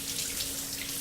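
Water runs steadily from a tap into a sink for hand washing, a brief, close, continuous hiss with no talking.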